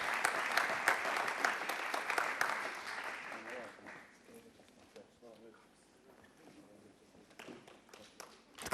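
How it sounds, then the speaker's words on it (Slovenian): Applause at the Zlati kamen 2012 award ceremony: a dense crowd clapping that fades out after a few seconds, followed by quieter murmuring and a voice speaking. "Če ga pospremimo še z malo aplavza, bo doživetje samo še bolj zlato."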